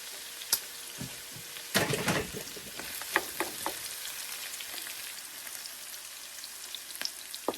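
Onion sizzles steadily in a pan at close range. A utensil stirs it now and then, adding scrapes and clicks over the continuous frying hiss. No one speaks.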